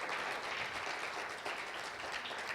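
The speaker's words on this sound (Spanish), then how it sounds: "¿Por qué no le damos un fuerte aplauso al Señor por nuestras ofrendas?" A church congregation claps together in a faint, steady wash of applause that lasts the whole short moment, with no voices standing out.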